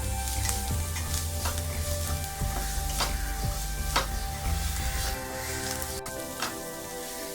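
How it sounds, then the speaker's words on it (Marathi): Onion with salt frying in a pan, a continuous close sizzle and crackle with scattered stirring clicks throughout, fairly loud and alone. "मीठ, कांदा थोडा फ्राय करून घेऊया."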